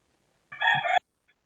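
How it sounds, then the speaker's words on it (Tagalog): A single rooster crows once, short and fairly distant, with near silence around it. "tumilaok na yung manok"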